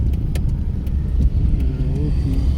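Car being driven during a driving lesson, a steady, loud low engine rumble filling the cabin with faint clicks and light rattles over it.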